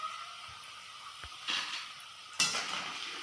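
Food frying in hot oil in a pan, a steady sizzle with a few clinks and scraping stirs from a utensil, close and without talk.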